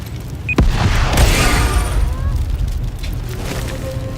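A bomb explodes in the video game Wasteland 3: a sharp crack followed by a loud, heavy boom that rolls on as a long rumbling tail, with faint game sounds running underneath.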